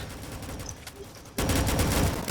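Rapid gunfire in the video game Rolling Thunder, a crackling burst of shots that starts light and then jumps to a loud, dense fusillade partway through.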